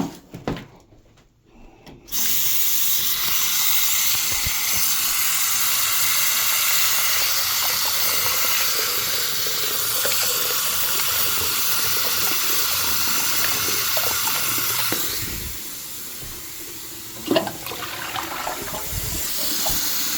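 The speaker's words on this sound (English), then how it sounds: "Flush the toilet." Water runs hard and steadily from a tap in a renovated house in Oxon Hill, MD, filling the space with a loud, continuous rush during a plumbing and pressure check, then dips briefly before a short toilet-flush surge near the end.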